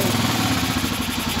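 A motorcycle engine idles just after being started, a steady, even close-up chugging with a light mechanical clatter and no talking.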